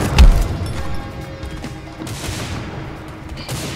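Loud, rapid bursts of gunfire from an online shooter video game fill the space in dense volleys, with a heavy thump at the start.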